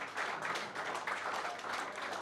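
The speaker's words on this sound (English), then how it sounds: "Big round of applause for Akshay." Round of applause at a professional golf tournament, the DP World Players Championship, honoring golfer Akshay Sharma; dense, steady clapping from a gallery crowd holds evenly throughout at moderate distance.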